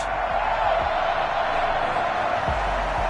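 Stadium crowd noise from a Madden football video game, a Baltimore home crowd roaring in a dense, continuous wash that holds steady without distinct claps or shouts, with a couple of low thumps.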